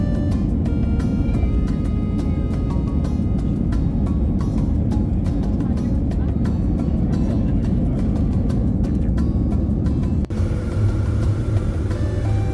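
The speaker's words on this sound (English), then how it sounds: "I guess I'll just let you guys enjoy the takeoff." Cabin noise during a Eurowings airliner takeoff roll: a loud, steady broadband engine and rolling roar with rattles throughout, a brief thump near the end, no talking.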